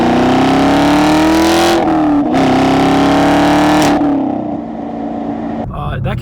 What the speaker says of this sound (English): When you have an exhaust note as good as this car has